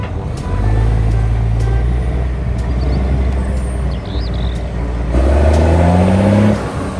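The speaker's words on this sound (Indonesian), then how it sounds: "Wow, lihat teman-teman, di sini ada artikulat dump truck." An articulated dump truck's diesel engine, running loud and close with a steady low drone that rises in pitch as it revs, and a sharp air-brake hiss near the end.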